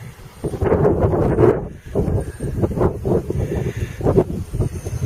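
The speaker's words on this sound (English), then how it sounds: "I mean, it's so windy you can't believe it." Strong, gusty wind blows outdoors on a warm day, a loud continuous rushing roar that swells and buffets the microphone throughout, with no voices heard.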